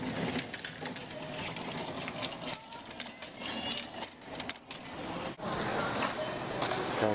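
An arcade claw machine's motor whirs and rattles almost nonstop at close range, with a few brief dips in the mechanical drone.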